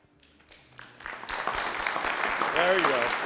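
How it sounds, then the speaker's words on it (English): Applause for a keynote speaker at a conference starts faint and quickly grows into sustained clapping from the audience, with a voice heard at the start. "Applause brings him out."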